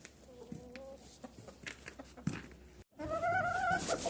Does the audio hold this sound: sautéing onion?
no